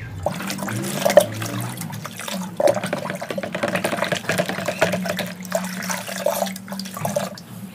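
Homemade organic NPK liquid fertilizer is stirred into about five litres of water, a continuous swishing and sloshing with repeated splashy strokes, close and fairly loud with no voices.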